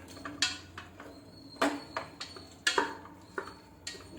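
Squid being sautéed in a pan with shallots, ginger, garlic and fennel: quiet, intermittent clinks and scrapes of a spatula against the pan, a few sharp taps spaced irregularly, with no talking.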